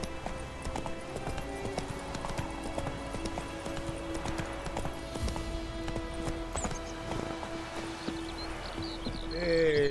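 Horse hooves clip-clopping in The Witcher 3, a steady run of hoofbeats going on throughout at moderate level, with faint melodic game ambience behind them.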